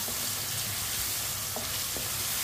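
Chicken fries in a pan over medium heat, a steady close sizzle with a few soft spoon scrapes as it is stirred.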